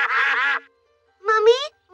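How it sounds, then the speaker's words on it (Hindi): Cartoon ducks on a pond quack loudly in two bursts separated by a short silence, close and clear, in a Peppa Pig episode. "देखो वहाँ तालाब में बत्तख है।"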